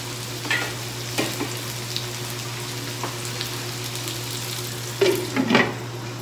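Carrots and tofu cook in a covered pan, a soft steady sizzle with a low hum and scattered clicks and clatters, ending in a louder burst of handling, close and with no voices.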